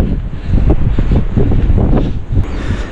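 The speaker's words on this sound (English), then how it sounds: "It is so windy here." Strong gusty wind batters the microphone outdoors in Reykjavik, Iceland, a loud rumbling roar with surging buffets throughout.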